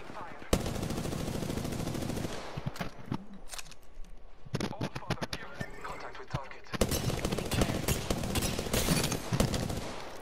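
Bursts of rapid automatic gunfire in a multiplayer Apex Legends match, loud stretches of shooting broken by short quieter gaps and scattered single shots, with some game sounds mixed between the volleys.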